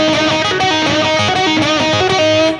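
A lick on a heavily distorted electric guitar, with a string bend and a pull-off, plays as a loud, dense, continuous stream of gritty notes.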